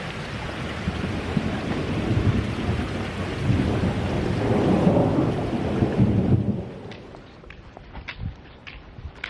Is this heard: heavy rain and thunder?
yes